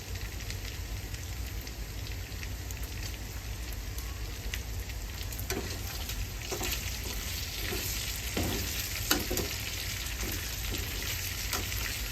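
Pork belly frying in its own rendered fat crackles and sizzles loudly and continuously, with sharper pops and spatters scattered through the steady hiss.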